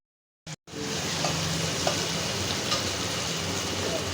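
Ginger, cumin and dry and fresh chili sizzle steadily in hot oil while an egg dish is being cooked, a dense, continuous frying hiss that starts after a brief silence and holds close and even throughout.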